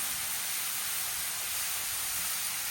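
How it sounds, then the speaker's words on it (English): Food laid face down on a Blackstone griddle grill sizzles in a steady, even hiss that stays loud and constant throughout, with no talking. "we're gonna place these things face down on the grill. Hear that?"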